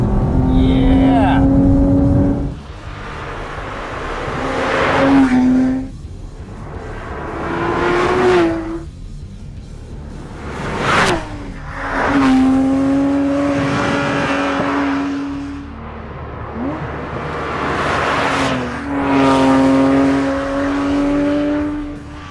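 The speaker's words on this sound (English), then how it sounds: "just listen to this incredible flat six engine." A 2010 Porsche 911 GT3's flat-six engine revving hard repeatedly, rising to a high-pitched wail through the gears, then dropping back, loud and close.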